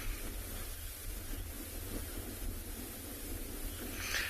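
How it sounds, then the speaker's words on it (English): Strong wind buffets a microphone outdoors on a sunset safari drive at Tswalu in the Kalahari, a steady loud broadband roar with low rumbling gusts throughout and no talk. "there's a lot of wind that's blowing very strongly."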